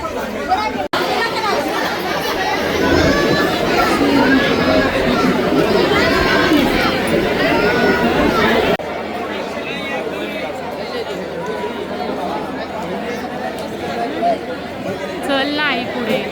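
Crowd chatter fills the Ambabai temple in Kolhapur, a dense and steady babble of many voices that is loud at first and then thins into a quieter hubbub partway through.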